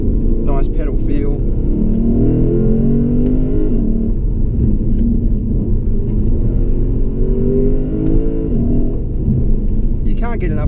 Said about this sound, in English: You can't get enough of that engine sound though. It's a really nice classic V8 soundtrack.